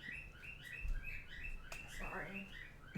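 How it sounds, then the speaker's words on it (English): Pet birds chirp and tweet in a repeated, lively run of short calls, fairly close and steady throughout, with a faint voice low in the background. "it's my birds going off"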